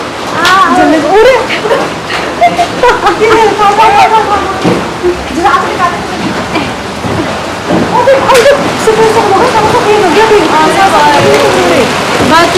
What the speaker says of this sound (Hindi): यहाँ पे बड़ा तेज गिर रहे हैं यार, ओले गिर रहे हैं बड़े बड़े ओले